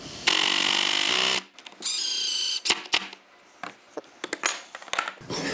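A power driver sinking screws into a wooden tool cabinet joint: two whirring runs of the driver, each lasting about a second, followed by scattered clicks and knocks as the parts are handled.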